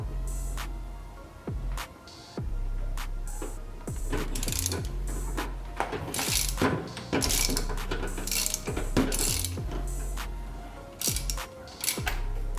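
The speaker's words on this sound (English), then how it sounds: "here we will now be using the 19 socket with an extension" A 19 mm socket on an extension ratchets while tightening a nut on a Honda lower engine mount, with bursts of quick metallic clicks separated by pauses and a low steady hum underneath.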